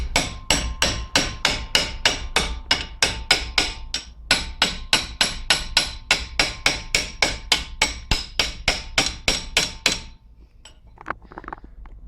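A hammer knocks a front brake caliper back into place on a 2005–2011 Holden Barina TK, around thirty sharp metallic blows in a steady, fast rhythm with a brief pause, stopping near the end with faint clatter after.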